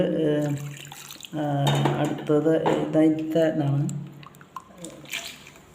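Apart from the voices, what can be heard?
pouring tamarind water into coconut fish curry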